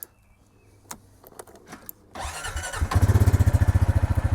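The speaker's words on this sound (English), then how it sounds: "there will be no music, just engine sounds." A few faint clicks and knocks, then a small ATV engine cranks and catches, settling into a loud, steady, rapid putter close by.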